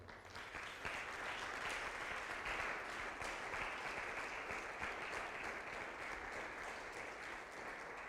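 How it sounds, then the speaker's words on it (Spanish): Audience at a seminary tribute to a priest gives sustained applause, a fairly quiet but dense, even clapping that swells in just after the start and holds steady without voices. "les pido que les demos un fuerte aplauso"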